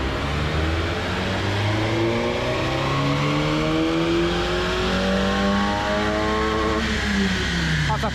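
Peugeot 206 Flexeo engine revving steadily and loud, with rising and falling harmonic sweeps across the whole stretch and a faint voice underneath.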